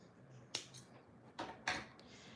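Scissors snip off a yarn tail on a crocheted flower, a few sharp, quiet clicks spaced irregularly against near silence.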